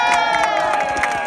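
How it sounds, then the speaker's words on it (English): A crowd at a Jon Ossoff event in Bainbridge, Georgia cheers and claps for a young boy, with loud shouts, whoops and high voices rising over scattered clapping in a short, lively burst. "Everyone, give Leon a round of applause."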